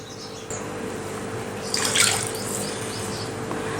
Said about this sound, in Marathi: आणखी यामध्ये मी पाणी घालणार आहे